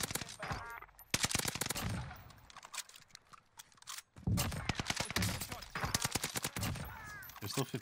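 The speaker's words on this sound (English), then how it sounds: "Oh, no, I stopped shooting." Rapid video-game gunfire bursts in dense, crackling volleys with a brief pause midway, while players talk over the shooting.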